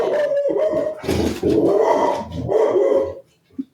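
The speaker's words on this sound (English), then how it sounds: "That's just the dog introducing herself to the pod." A dog barks and howls up close in loud, drawn-out bursts with growly edges, then goes quiet before a short final yelp.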